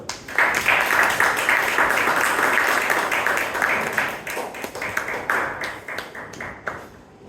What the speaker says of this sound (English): A big round of applause to the speaker, Alina Osha.